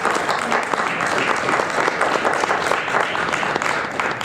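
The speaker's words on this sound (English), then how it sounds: "let's have a round of applause for these candidates." Warm, continuous applause from the audience at a League of Women Voters candidate forum in Round Lake Park, fairly close and uninterrupted.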